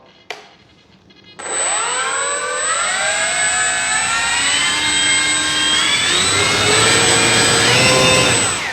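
Electric motor of an FMS P-51 Voodoo V2 1.1 m RC plane throttled up on the ground, a sudden loud high whine after a brief click, rising in pitch and holding strong for several seconds.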